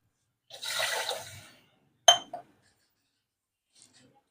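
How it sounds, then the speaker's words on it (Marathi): A glass of water tipped into a cooking pot on a gas stove while making a turmeric dal dish, giving a short splashing pour followed by a sharp clink of glass and a few faint drips afterward. "मी पुन्हा एक ग्लास पाणी टाकते"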